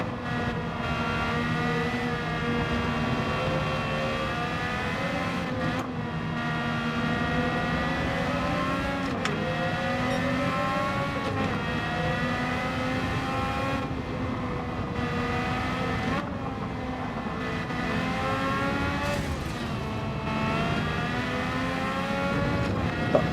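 Steady high-pitched wail of a Honda RA272 race car engine in Gran Turismo 7, held at high revs and shifting pitch through gear changes and braking over a long continuous run with no talking.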